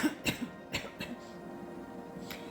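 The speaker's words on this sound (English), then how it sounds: "The coughing in my throat when I'm doing a reading" A few short, close coughs and throat clears in quick succession, then quiet room tone.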